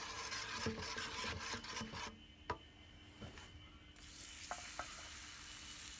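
Takoyaki batter in an oiled takoyaki pan gives a steady close sizzle, with a few light scraping and tapping sounds from cooking tools and no one speaking.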